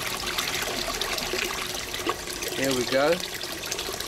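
A small aquaponics siphon drains water in a steady trickle, then draws air and gives a brief gurgle near the end, with a short spoken remark over the flow.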